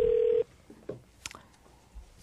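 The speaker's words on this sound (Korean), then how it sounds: "전화 연결 지금 가고 있고요" A telephone call being connected during a radio quiz show, with a steady dial tone cutting off, then sparse brief dialing beeps and clicks over a quiet line.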